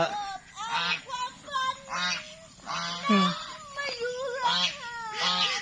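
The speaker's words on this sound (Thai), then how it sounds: "มีทั้งเป็ดทั้งห่าน" Several geese honk repeatedly in loud, nasal bursts close by, overlapping one another with brief pauses, with ducks nearby and a little background voice.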